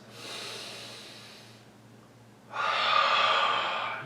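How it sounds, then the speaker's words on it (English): Two loud breaths close up during a floor exercise, a long exhale, a short pause, then a stronger, harsher breath. "You hear how loud my breathing is?"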